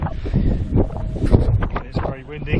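Strong wind buffets the microphone in heavy gusts beside a farm on the Southern Upland Way in Scotland, with rumbling low roar throughout and faint rustling mixed in.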